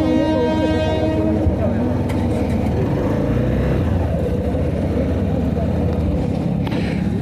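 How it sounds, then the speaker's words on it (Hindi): A train arrives with its horn blaring at the start, followed by a steady, loud rumble of rolling wagons that fills the rest of the clip. "ट्रेन आ गई।"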